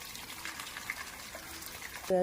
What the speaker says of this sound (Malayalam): വെള്ളം കുളിക്കുന്ന പാത്രം അവിടെ ഇരിപ്പുണ്ട്. അതിലേക്ക് വെള്ളം ഒഴിച്ചു കൊടുക്കും.